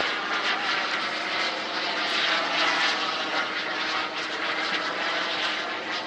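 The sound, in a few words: jet plane flying at a jet meet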